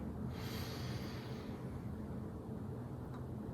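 A deep inhalation during a qigong loosening exercise, drawn in steadily and alone at close range with a soft airy rush that swells early and then fades into low room noise.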